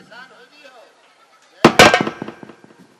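Sharp firecracker bangs burst out after a stretch of quiet talk during a Ramlila stage performance, a loud pair of cracks followed by a scattered crackle of smaller pops fading away.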